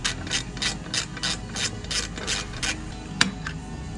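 A ratchet clicks in quick, even bursts of strokes while backing out T15 cover bolts on the exhaust of a KTM SuperDuke 1290, close and crisp with a sharp metallic knock near the end and no talking.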